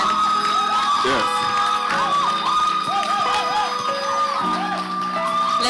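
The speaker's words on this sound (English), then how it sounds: "Let's keep the applause going." Audience at a university students' union leadership awards ceremony cheering and whooping continuously over a steady crowd roar, with shouts and voices rising throughout; applause is hard to pick out beneath the yelling.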